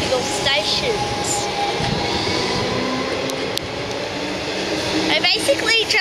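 Trains rumble and clatter through Westall station with a steady mechanical roar, some squealing and clicks, and background voices.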